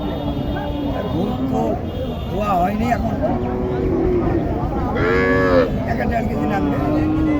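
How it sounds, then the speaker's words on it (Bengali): A Sahiwal-cross cow lows repeatedly nearby at a cattle market, with her calf's higher bleating moo among the calls, while people talk over the animals throughout. "এ হচ্ছে বাছুরটি আর এটা হচ্ছে গাই"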